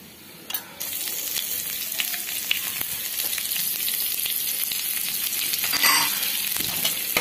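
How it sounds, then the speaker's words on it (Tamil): Chopped onions sauté in a hot pan for a Tamil ridge gourd and sweet potato dish, with a steady bright sizzle throughout and a few scattered stirring clicks and scrapes, close and fairly loud, with no talking. "வெங்காயம் போட்டு நல்லா வதக்கிக்கலாம்"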